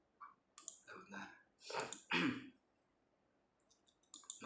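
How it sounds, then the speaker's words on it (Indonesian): A few short, quiet coughs close to the microphone, clustered together and followed by near silence. "agak batuk sih."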